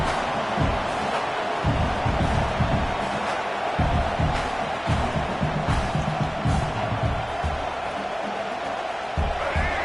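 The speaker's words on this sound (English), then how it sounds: "The roar of the crowd trying to fuel this defense to keep them pinned in their own end" A dense, steady roar from a large stadium crowd at a college football game against Michigan, swelling continuously for the whole stretch without letup.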